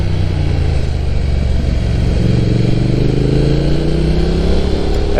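A Triumph Thruxton motorcycle engine revs steadily on a road ride in Japan, its pitch climbing as it accelerates, loud and close throughout with a continuous droning exhaust note and no pauses.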